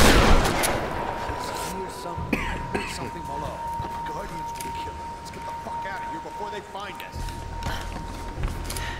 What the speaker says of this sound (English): There's a shotgun